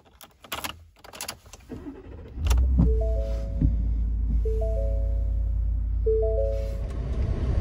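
A car engine cranks and catches, then settles into a steady low idle hum with faint tonal whines above, after some earlier clicks and rustling inside the vehicle.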